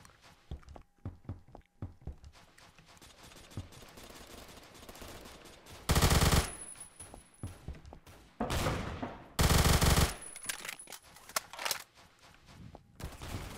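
A Kriss Vector fires in the Roblox game Phantom Forces. Two loud bursts of rapid automatic fire stand out over lighter footsteps and movement sounds, and a few single shots come in between.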